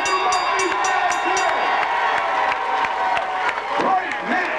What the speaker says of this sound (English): How about an round of applause for both these guys here?